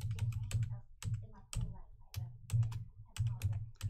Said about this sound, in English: let me type this because they're asking what the hashtag looks like